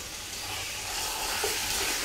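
Chicken seasoned with salt and pepper fries in a pan with garlic, a steady, soft broadband sizzle and hiss with no talking.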